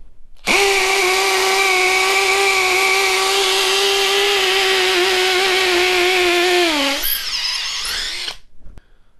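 A Makita hybrid hammer drill runs at full speed in one loud, steady whirring burst that holds for about seven seconds, rises briefly in pitch, then stops and winds down.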